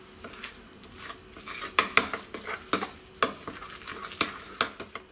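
A spoon scrapes and clinks against a bowl while stirring a thick chocolate spread mixture, a steady run of irregular close taps and scrapes that grows busier after the first second, with no talk.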